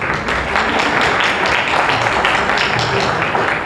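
Dense, steady applause from an audience at a Diwali gala in New York, loud and continuous clapping filling the whole stretch without pause.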